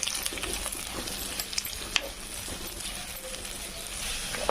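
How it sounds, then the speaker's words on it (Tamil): Onions and a sprig of curry leaves sauté in hot oil for a Chennai-style village chicken curry, giving a steady close sizzle with scattered scrapes and clinks of a spoon against the pan. "ஒரு 4 மீடியம் சைஸு வெங்காயம், இதோட ஒரு கொத்து கருவேப்பிலை போட்டுக்கலாம்."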